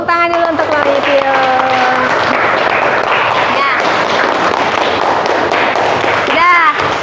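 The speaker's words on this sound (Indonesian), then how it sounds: "Tepuk tangan dulu untuk Mami Tio." A small group claps warmly during a classroom teachers' supervision session. The dense patter of hands goes on without a break, and brief voices call out at the start and near the end.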